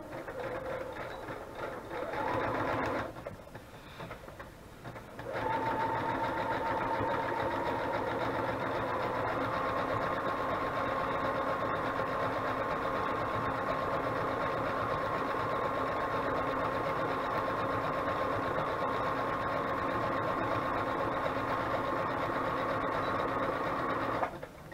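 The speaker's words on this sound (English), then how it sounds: "So I'm just going to sew that real quick." Sewing machine stitching junk journal pages, a steady loud mechanical whir with rapid needle chatter, a brief stop-start near the beginning, then a long continuous run to the end.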